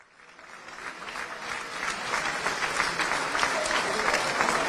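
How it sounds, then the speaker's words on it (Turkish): A crowd at the farewell ceremony for actor Genco Erkal breaks into applause that swells from quiet to a sustained, dense roar of clapping, with voices faintly mixed underneath. "arkamdan alkış seslerini duyuyorsunuz"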